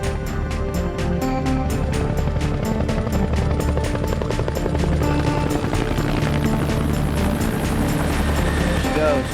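A U.S. Navy military helicopter lifts off, its rotor pounding loud and close in rapid rhythmic beats under a heavy continuous engine roar.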